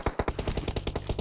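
Rapid automatic gunfire from PUBG Mobile, a dense burst of about a dozen loud, evenly spaced shots rattling for just over a second with no talking.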